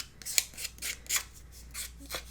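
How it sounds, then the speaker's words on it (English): Scissor blades scraped along the edge of craft paper to distress it, a series of short, crisp rasping strokes in an uneven rhythm, close and clear, with no talking. "I want to distress the edge, and I'm just going to take my scissors"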